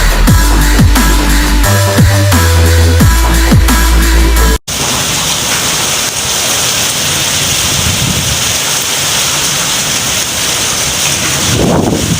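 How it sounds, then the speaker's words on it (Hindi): A strong windstorm with heavy rain roars outside, a dense, loud wash of rain and gusting wind that fills the scene, preceded by a few seconds of music before an abrupt cut. "इतना तेज़ आंधी तूफान है बाहर।"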